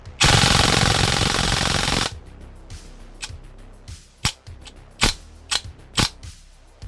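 An airsoft gun with a PKM gearbox fires a continuous two-second burst, loud and close, followed by several separate sharp single shots spaced irregularly.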